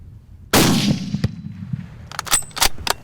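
A single rifle shot fired at a wild boar on a hog hunt, a sharp loud crack with a trailing outdoor echo, followed by a few faint metallic clicks and knocks.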